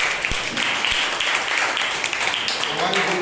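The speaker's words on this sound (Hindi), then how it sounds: "स्वागत है, एक जोरदार ताली बजाइए।" A congregation claps loudly and steadily during a Sunday church service, the broad clapping continuing for the full few seconds with voices mixed in.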